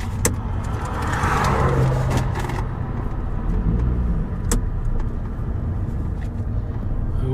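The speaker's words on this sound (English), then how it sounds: "Wait, there's a car behind us." A car on the road approaching from behind, its engine noise loud and steady throughout with a brief swell of passing rumble.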